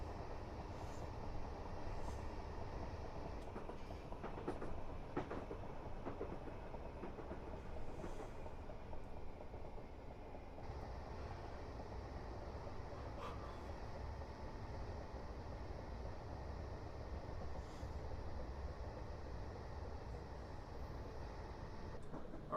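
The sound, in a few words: train running on Portsmouth Direct Line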